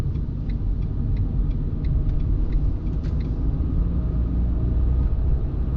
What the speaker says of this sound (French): Je sors du rond-point et je vais pouvoir réaccélérer et monter en troisième.